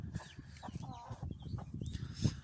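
Close, low clucking from a rooster in short irregular bursts, with some rustling around it.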